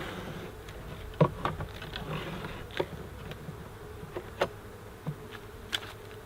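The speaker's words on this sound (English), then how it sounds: "Got a bee over here thinks that's not such a good idea." A honeybee buzzes around beehive frames while honey supers are checked in orange groves, a soft continuous drone broken by scattered sharp clicks and knocks from handling the hive equipment.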